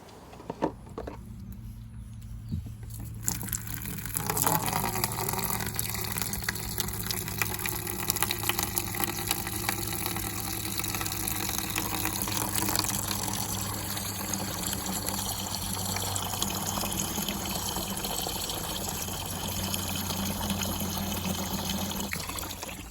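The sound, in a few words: water draining from caravan tank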